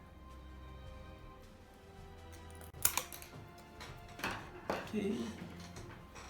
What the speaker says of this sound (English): First, I will try to cut the Invisible Grille wire.